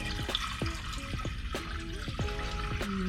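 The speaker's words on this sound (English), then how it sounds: "first we're gonna put our water inside of our pot." Water is poured slowly into a pot for making sugar syrup, with a continuous splashing trickle and repeated gurgling, bubbling plops close by.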